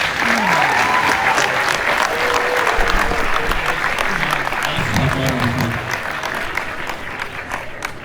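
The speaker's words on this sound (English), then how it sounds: "can you please give a hand a round of applause for our beginning band" A crowd applauds a middle school beginning band at a winter concert with loud, dense, steady clapping, a few voices and cheers mixed in, tapering slightly toward the end.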